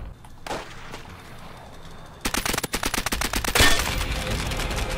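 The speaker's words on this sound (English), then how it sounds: "All it takes is a couple taps with this MP40 and you're good" Suppressed MP40 submachine gun fire in Call of Duty, a quiet opening shot followed by a rapid string of short muffled bursts, then a louder blast and sustained rumbling battle noise.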